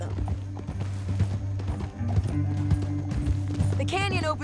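Horse hooves clip-clop at a steady trot in Red Dead Redemption 2, rhythmic and near, under background music and a brief whinny near the end.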